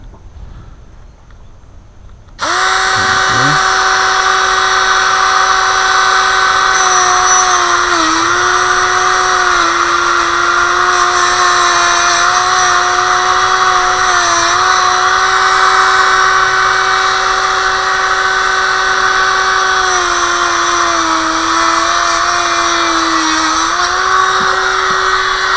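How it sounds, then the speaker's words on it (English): A Dremel rotary tool grinds inside the engine bay of a Mercedes R129 500SL, starting abruptly and then holding a loud, high, sustained whine with slight pitch dips under load for over twenty seconds. "with the Dremel."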